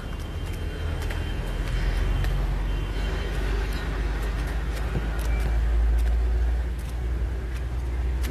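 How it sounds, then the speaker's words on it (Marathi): Road traffic rolls past steadily near a Mumbar Devi temple approach, a continuous low rumble of cars and heavier vehicles with no pauses, fairly loud and close. "ट्रॅफिक बघा तुम्ही, बघू शकता."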